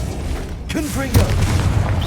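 Confringo blasting-spell explosion from the video game Hogwarts Legacy, a booming burst of impact amid game effects, with voices over it.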